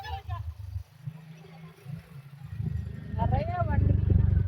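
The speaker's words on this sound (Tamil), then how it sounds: "நிறைய வண்டி." Heavy motorcycle and vehicle traffic near Alagar temple rumbles as a low, continuous engine drone that grows louder toward the end, while a person talks nearby.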